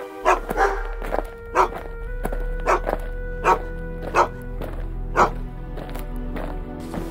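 Police search dogs barking in a run of loud, sharp, close barks spaced roughly every half second to second over a low steady hum, no talk.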